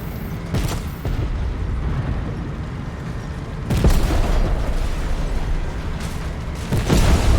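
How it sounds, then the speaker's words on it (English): A gas station blows up in Fortnite Chapter 3 Season 2, with heavy booming blasts at the start, middle and end over a steady, noisy game backdrop. "he died in the gas station explosion"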